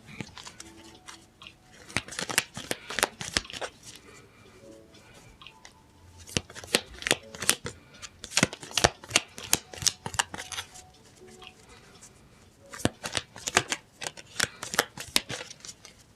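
Cards are shuffled repeatedly, with crisp riffling bursts of flicking and snapping separated by brief quieter pauses, close up.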